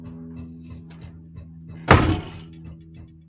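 A door is pushed shut with a single solid thunk about midway, heard close and loud against a quiet room with a faint steady hum and some light knocking sounds before it.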